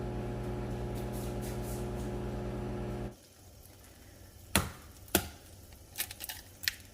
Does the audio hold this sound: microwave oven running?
yes